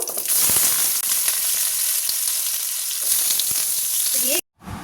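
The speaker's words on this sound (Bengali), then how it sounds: "দিয়ে আলুগুলোকে এবার ভেজে নেবো" Cut potatoes fry in hot mustard oil with a loud, dense, continuous sizzle and a few faint clinks, ending abruptly.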